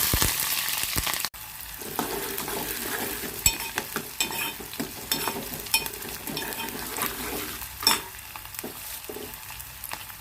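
Onions and green chillies sizzle and crackle in hot oil in a pan, a steady frying hiss with occasional stirring clinks, close and moderately loud with no talking.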